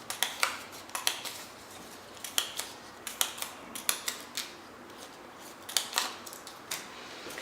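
Scissors snip through scrapbooking paper to make confetti, a quick irregular series of crisp close cuts, some in rapid pairs, quiet and alone.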